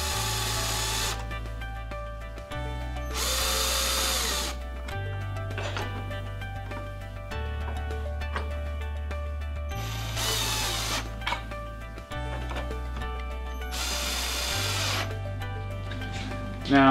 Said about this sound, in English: you're going to want to put your screws in partially first